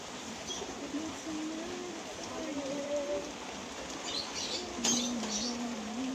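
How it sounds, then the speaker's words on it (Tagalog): Heavy typhoon rain pours down in a steady, dense hiss with no wind, while a voice talks over it and a bird chirps briefly near the end. "May bagyo kasi guys, kaya ganito kalakas ng ulan."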